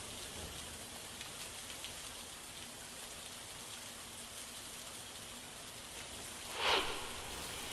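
Heavy midnight rain in a flood-hit district, a steady dense hiss of rainfall on surfaces filling the whole stretch, with one brief louder splash or rustle near the end.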